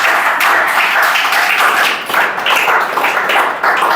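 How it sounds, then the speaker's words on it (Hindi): A classroom of students claps loudly together in a sustained burst of dense, steady applause, with a couple of brief dips in intensity before it continues, during a police recruitment exam coaching class. "चलो तेंदुपत्ता के लिए जोड़ ताली बजाओ"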